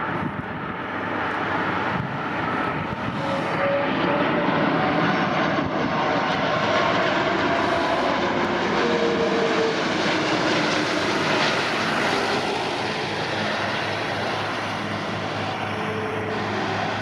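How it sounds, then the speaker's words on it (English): A World 2 Fly Airbus A330 lands at Lisbon Airport, its jet engines roaring in a loud, steady, broadband rush that holds throughout without voices. "the World 2 Fly Airbus A330 gracefully touches down"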